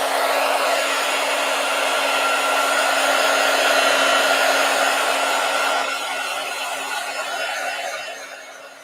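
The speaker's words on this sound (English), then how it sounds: "All right, I'm going to use my heat gun." A heat gun blows steadily for nearly nine seconds, a loud, even rushing hiss with a fixed motor whine, easing slightly near the end, used on a collage craft project.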